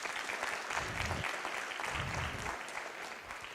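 A city council chamber audience applauds state champions in a steady, moderately distant round of clapping that carries on evenly from start to finish.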